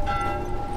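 A bell rings in the video game The Last of Us, a sustained metallic tone with steady ringing overtones over a low rumble, holding evenly for under a second.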